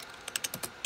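Quick keystrokes on a computer keyboard, about seven distinct close taps in an uneven rhythm over a faint room hiss.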